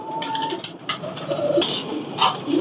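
Breeder pigeons coo in soft, throaty repeated calls close by, with a few overlapping birds and faint background rustle.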